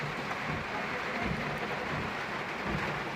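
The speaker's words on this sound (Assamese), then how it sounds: "চাওক বৰষুণ পৰি আছে" Steady, dense rain hiss fills the whole stretch at a railway level crossing, a continuous downpour with low rumbling underneath and no voices.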